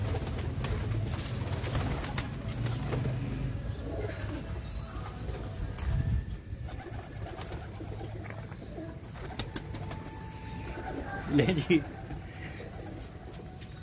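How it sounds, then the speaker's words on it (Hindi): Pigeons on a rooftop loft coo softly and continuously over faint outdoor ambience, with occasional flutters and a brief louder rustle near the end, while someone speaks briefly. "बदतमीज कबूतर आ गए।"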